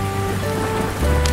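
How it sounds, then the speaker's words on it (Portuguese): Rain patters in the Cornucópia video game as the scene darkens, a steady soft hiss under sustained game music tones, with no speech. "Tá chovendo, ficou escuro."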